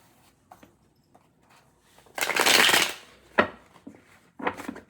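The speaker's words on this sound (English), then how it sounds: "I'm shuffling the cards right now." Tarot cards being shuffled by hand, a soft riffling rush lasting about a second, then a couple of quieter shuffling flutters and light taps, close and alone.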